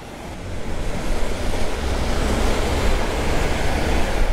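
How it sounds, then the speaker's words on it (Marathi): Monsoon rain and rushing air roar around a moving motorbike on the road from Mumbai to Khopoli, a loud, constant broadband wash that swells slightly as the ride goes on. "पाऊस ना चालू झाला आहे"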